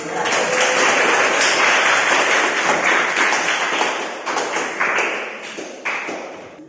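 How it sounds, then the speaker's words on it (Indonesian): A classroom of students claps together on cue, a full burst of applause that tapers into a few scattered, separate claps near the end. "Oke, tepuk tangan dulu ya."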